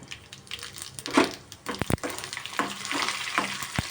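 Dried red chili, urad dal, mustard seeds, cumin and green chili crackle as they hit hot oil in a pan. A bright, close sizzle runs throughout, broken by a few sharp spatters and spoon-stirring scrapes.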